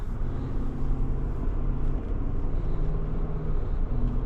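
A 2025 Chevrolet Tahoe Z71 with a V8 engine cruising down the road, giving a steady, loud, low engine drone mixed with road and tire rumble that stays constant throughout.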